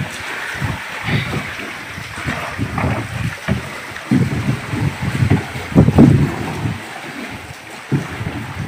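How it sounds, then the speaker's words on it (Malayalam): Strong wind gusting outdoors beside the water during rainy-weather fishing from a small rowed boat, a steady rushing roar with heavier buffets swelling around the middle and easing toward the end, no talking. "നല്ല കാറ്റുണ്ട്,"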